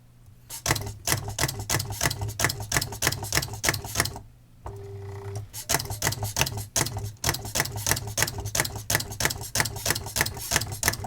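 A computer-controlled typewriter working as a printer hammers out rapid, even keystrikes over a steady motor hum, with one brief pause and a carriage tone before the clatter resumes.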